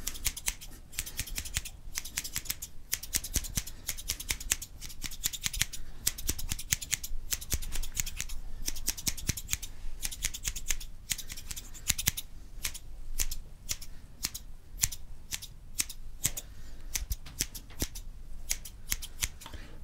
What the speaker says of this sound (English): these have been one of the best sounding ASMR scissors which I've had